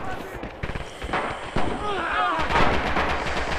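Rifle gunfire in the video game Return to Cold Steel, with rapid overlapping shots and distant battle blasts under a player's voice.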